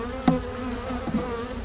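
Honey bees buzzing in a small, struggling nuc hive, a close, continuous droning hum with a few louder individual bees passing near.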